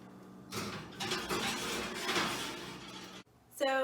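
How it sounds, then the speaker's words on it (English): A metal baking pan holding a blueberry bar crust clatters and scrapes as it goes into an oven set to 350, a few seconds of close rattling, then a brief quiet and a short electronic beep. "I'm going to add it into the oven"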